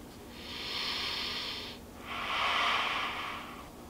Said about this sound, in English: the way you're breathing reminds me of a goddamn interrogation room